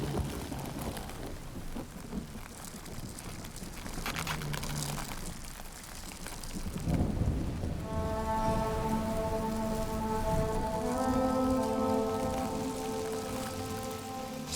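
Steady rain patters over a forest scene while low thunder rumbles around the middle, followed by a sustained tonal swell of music layered over the downpour, with no voices.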